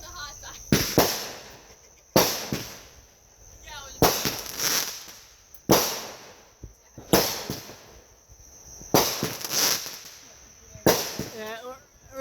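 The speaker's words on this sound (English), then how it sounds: "we're sort of enjoying the firework show" Fireworks show in 2025, with a bonfire nearby: seven sharp booming bursts arrive at roughly two-second intervals, each followed by crackling fizz and a fading tail, loud and fairly close.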